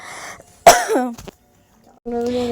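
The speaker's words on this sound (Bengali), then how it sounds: "এতই ঠান্ডা লেগেছে, বেশিক্ষণ কথা বলতে পারছি না, পুরো কাশি উঠে আসছে" Someone with a cold gives a sharp, loud cough or throat-clear close by. It trails into strained vocal sounds, and after a pause a voice is heard again.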